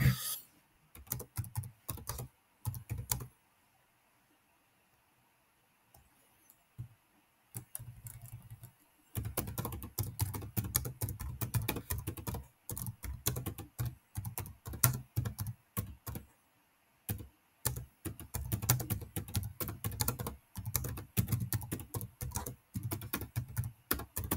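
Fast clicking keystrokes on a computer keyboard come close up in irregular bursts, with a few pauses between runs of typing and no talking over them.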